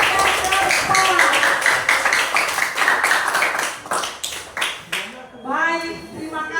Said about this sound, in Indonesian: beri tepuk tangan kepada kelompok yang keempat